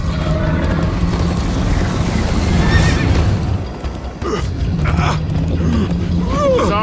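A horse neighs and whinnies in a Minecraft Story Mode chase scene, with clip-clop hooves, booming game effects and background music, the whinnies loud and recurring near the end.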